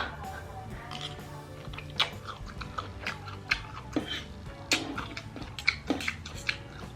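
Close, crunchy chewing and biting of a fried enoki mushroom salad dressed with fermented fish sauce, with repeated irregular crisp bites over a faint steady background hum.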